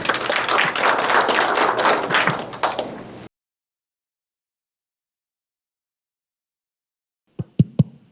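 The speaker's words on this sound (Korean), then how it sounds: "박수로 모시겠습니다" An audience at a political forum in Seoul applauds to welcome a speaker with a dense, loud burst of clapping for about three seconds. It cuts off abruptly into silence, then a few sharp knocks follow near the end.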